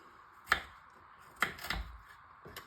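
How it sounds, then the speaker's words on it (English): Knife chopping food on a cutting board while cooking chicken korma: a few separate, sharp chops, near and fairly loud, with two close together near the end and quiet gaps between them. "So just going to keep chopping."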